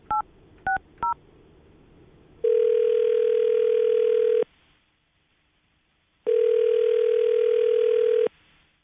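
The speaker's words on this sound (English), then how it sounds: "I'm going to dial her phone number right now, get her on the phone" A phone call is placed from a radio studio: three quick keypad tones, then two long, loud ringback tones separated by a pause of silence.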